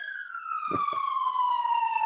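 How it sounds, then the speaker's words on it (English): An emergency vehicle siren passes, its steady wailing tone sliding slowly downward in pitch as it goes by, loud and continuous, with a couple of brief low thumps partway through. "here comes the siren now"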